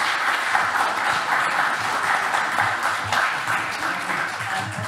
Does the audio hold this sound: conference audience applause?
yes